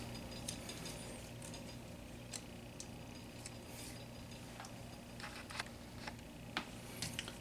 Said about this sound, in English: just get one of these M3 screws and screw it in a little bit from this side